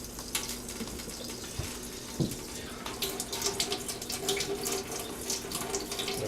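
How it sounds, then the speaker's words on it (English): Fruit being rinsed under a running kitchen tap with Veggie Wash soap, a steady splashing stream of water into a sink with clinks and shifting splashes throughout, close by and without talking. "Rinse it good, get that soap."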